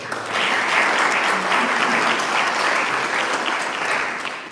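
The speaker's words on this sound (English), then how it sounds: "So round of applause for those." Crowd applause at an outdoor groundbreaking ceremony at Tifft Nature Preserve in Erie County, a dense, even clapping that swells and holds steady for several seconds.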